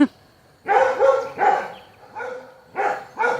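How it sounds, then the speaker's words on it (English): A dog barks at turkeys repeatedly, five or six sharp barks in quick succession, close and loud with brief pauses between. "The turkeys won't stop, so my dogs won't stop barking."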